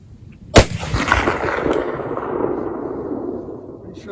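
A single sharp, loud rifle report from a Mosin Nagant 91/59 carbine firing Czechoslovakian round-nose training ammo at a range, followed by a long rolling echo that fades slowly, with a faint distant ring near the end.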